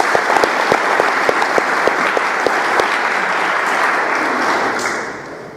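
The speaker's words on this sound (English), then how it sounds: "How about a round of applause for" A crowd claps steadily in sustained applause, loud and close, then fades out near the end.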